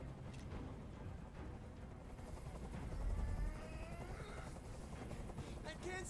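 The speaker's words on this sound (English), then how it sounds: "Tell that helicopter to get out of here." A helicopter in the video game Detroit: Become Human makes a steady, dense rotor drone that fills the background while voices speak over it.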